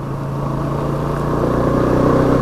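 A vehicle engine pulling under acceleration after a shift into third gear, with a steady loud mid-range drone that gradually rises in level over a couple of seconds, up close, with no talking.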